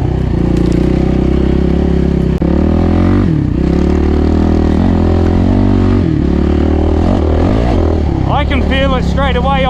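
A 450 dirt bike rides a trail, its engine loud and close with a steady droning note and shifting revs throughout.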